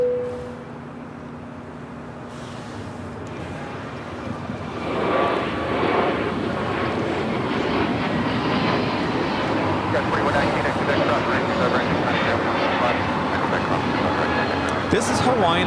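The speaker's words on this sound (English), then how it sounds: "This is Hawaiian Airlines Flight 61 taking off to Kailua Kona on the A321neo." Hawaiian Airlines A321neo taking off at LAX, its engine roar rising from a low hum into a loud, sustained broadband rumble that holds steady as the jet accelerates, with no talk over it.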